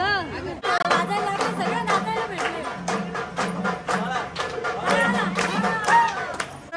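A packed temple crowd fills the air with a dense babble of many voices, with some louder calls and shouts rising above the constant close chatter.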